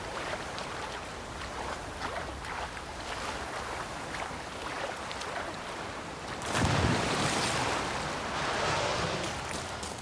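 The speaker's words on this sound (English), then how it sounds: "Oh my goodness, I heard like a splash, but I was too scared to look" A whale splashes in the sea in The Witcher 3: a steady wash of water and wind, then a louder, broad rush of splashing surf that swells midway and slowly eases, with no voices.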